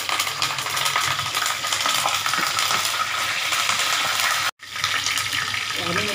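Mustard seeds and curry leaves sizzling in hot oil, a loud continuous hiss and crackle that holds steady throughout, broken by one brief dropout near the end, with no talking.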